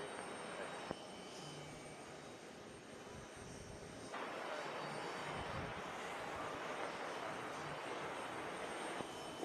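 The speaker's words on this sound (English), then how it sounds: "We got WestJet taking off" A WestJet airliner takes off at JFK airport, its jet engine roar a broad steady rumble that rises and holds loud from about four seconds on, with faint radio chatter underneath.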